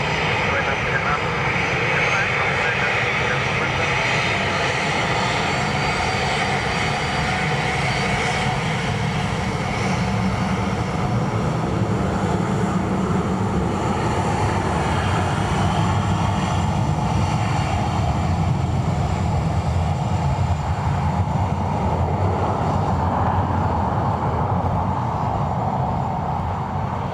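A VistaJet Challenger 350 business jet at Dublin Airport, giving a steady loud engine roar that holds throughout, while a voice talks over it the whole time.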